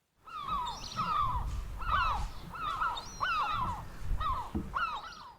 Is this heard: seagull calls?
yes